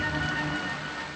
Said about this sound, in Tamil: மழை வேற அதிகமாகுது.